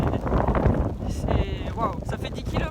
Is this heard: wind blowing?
yes